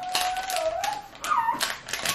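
A dog whimpers in a thin, wavering whine with a few short rising cries, close by, over intermittent clicks and taps from a meal being handled at a table.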